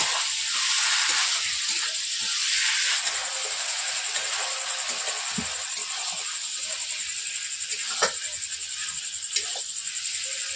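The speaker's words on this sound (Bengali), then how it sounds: "দেখতে পাচ্ছেন হাঁড়িতে আমার জল ফুটছে" Water boiling in a pot on the stove for chicken biryani rice, a continuous loud hiss and bubbling roar with a few light clinks near the end.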